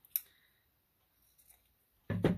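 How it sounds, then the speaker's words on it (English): Scissors cut a strip of lace: a sharp snip near the start, a quiet pause, then a louder close crunching cut at the end. "So I'm just going to cut off a little strip of lace off my lace that I have."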